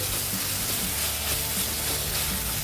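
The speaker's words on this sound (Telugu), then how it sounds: "ఇప్పుడు ఒకసారి బాగా మిక్స్ చేసుకొని టమాటోస్ చక్కగా మగ్గేంత వరకు ఫ్రై చేసుకోవాలి" Tomatoes with ginger garlic paste frying in a pan give a steady, dense sizzle that holds at an even level throughout, with no talking.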